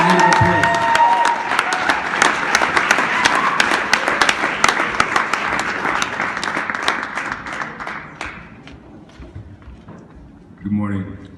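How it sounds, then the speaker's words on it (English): Graduation crowd applauding Peace Corps volunteers: dense, crackling clapping with scattered cheers fills the room, then thins and fades before a voice begins speaking at the end. "Let's give them a hand of applause."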